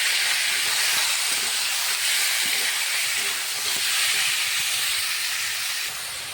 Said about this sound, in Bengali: চিকেনটা এখন ভেজে নেব